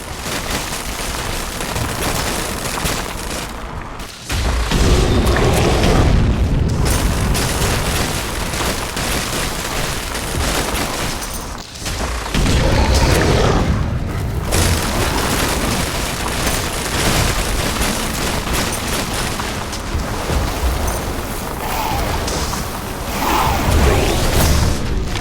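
Dense barrage of explosions and rapid gunfire as a base in The Riftbreaker is attacked, continuous loud booms and bursts rolling on with brief lulls between waves.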